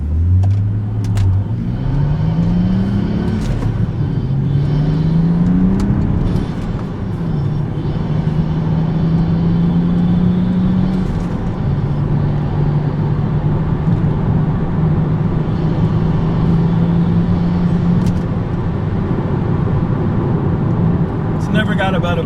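A BMW F32 435 fitted with an Active Autowerke performance exhaust pulls onto a freeway from a cold start, its engine note rising through several upshifts in a loud, continuous drone, with a voice talking over it.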